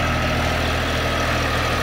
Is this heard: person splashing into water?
no